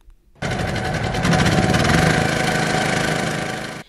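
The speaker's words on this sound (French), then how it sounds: "Le groupe électrogène ronronne." A generator running on butane gas starts abruptly after a brief quiet moment, then chugs loudly and steadily with a rapid mechanical rattle, close and continuous until it cuts off.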